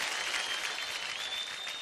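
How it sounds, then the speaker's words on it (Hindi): An audience on a singing talent show bursts into loud, dense applause that holds steady for the whole short stretch. "एक बार जैकी सर के लिए जोरदार तालियां।"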